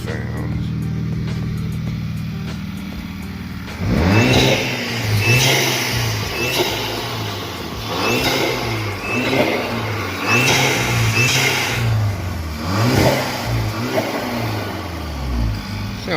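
A Volkswagen GTI engine fires up after a fuel filter change and revs repeatedly, rising and falling in several close, loud bursts, with a blow-off valve hissing between revs.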